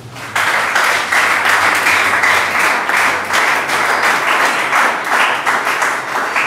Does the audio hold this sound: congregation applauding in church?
yes